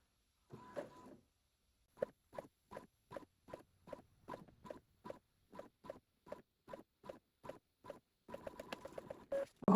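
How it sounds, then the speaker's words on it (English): An Epson inkjet tank printer at work, a run of regular short mechanical ticks and whirs spaced about every quarter second, quiet and close, with a busier burst of printer noise at the end. "this is a Epson inkjet tank printer I've had for a few years now."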